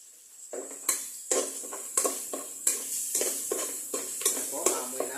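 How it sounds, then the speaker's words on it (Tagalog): Garlic frying in oil in a pan for papaitang baka while a utensil stirs it: a steady sizzle broken by repeated scraping strokes against the pan, about one every half second, close up and fairly loud. "haluin na hanggang pumula ang bawang"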